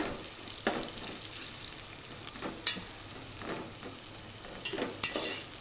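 Onions frying in oil until light golden for Sindhi biryani give a steady close sizzle, with a few sharp stirring clicks and scrapes of a spoon against the pan.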